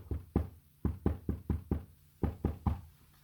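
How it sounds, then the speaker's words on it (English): Eleven sharp knocks sound in a 3-5-3 pattern, struck with a knife, spoon or chopsticks as a ritual before a meal; the groups are clearly spaced by short pauses, close and fairly loud with no talking. "One of us knocks 11 times,"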